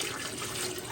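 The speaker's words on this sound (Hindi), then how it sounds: "अब मैं इसमें डालूँगी पानी।" Water pours steadily into a cooking pot for mutton yakhni soup, a continuous close splashing rush lasting the whole moment with no talk.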